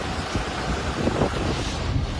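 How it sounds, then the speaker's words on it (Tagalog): Strong typhoon wind buffets the microphone while waves crash on the shore at Dimasalang, Masbate, a dense continuous roar with surges of surf and no talking. "Malakas na hangin at hampas ng alon din ang sumalubong sa mga residente ng Dimasalang."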